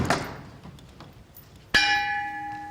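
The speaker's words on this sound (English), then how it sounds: "when the bell strikes 1" A single church bell strikes once, loud and near, its deep ringing tone holding and slowly decaying after a quieter stretch.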